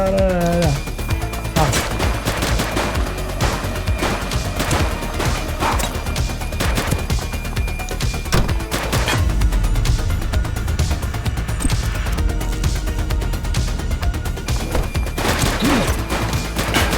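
Rapid, loud bursts of gunfire fill a police shootout in the video game The Precinct, with volleys of shots and sharp crashes repeating densely over a continuous game soundtrack.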